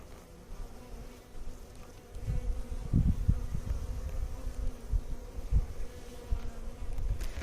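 Honeybees, including large drones, buzzing around hive frames while a nuc is installed, a steady close hum of many insects with a few louder passes, heard without talk.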